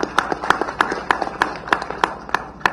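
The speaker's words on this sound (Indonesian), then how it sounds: "kita tepuk tangan untuk Kepala BNN" A small group claps for the head of Indonesia's National Narcotics Agency (BNN) at an event about a foiled two-ton methamphetamine smuggling attempt in Tanjung Balai Karimun, with sharp, fairly even claps close to the microphone over a few seconds.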